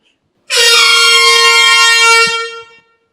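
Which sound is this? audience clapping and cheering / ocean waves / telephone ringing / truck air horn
truck air horn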